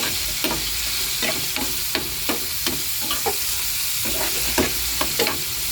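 Salty dried fish (tuyo) sautéed with tomatoes in a pan, a steady close sizzle punctuated by regular scraping strokes of a spatula stirring, roughly one every half second, with no voices.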